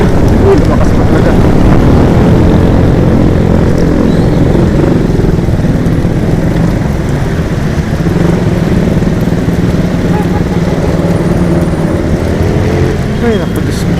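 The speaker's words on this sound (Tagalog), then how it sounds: "Lumakas pa ang ulan." Heavy rain pours down on a wet morning in Bulacan as a loud, steady broadband wash that keeps building in strength, with low rumbling beneath it.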